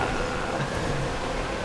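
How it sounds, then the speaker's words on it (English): A steady rumbling roar of a passing train in the video game GTA 5, continuous and moderately loud, with no talking. "Oh, the train's here as well."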